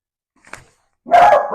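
A dog gives a single bark at close range, preceded by a faint short sound.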